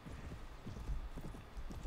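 Horse hooves gallop in the medieval combat game Mount & Blade: Warband, a quiet, rapid clip-clop of repeated thuds running throughout at low level.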